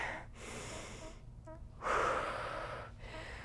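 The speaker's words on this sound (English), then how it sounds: "Nice deep breath." A deep breath during a cycling workout on a stationary bike: a drawn-in inhale, then a stronger, louder exhale about midway, heard close and alone with no talk.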